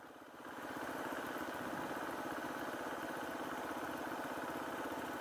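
A dirt bike engine idles steadily at close range, a continuous even mechanical drone that holds level throughout with no voices over it.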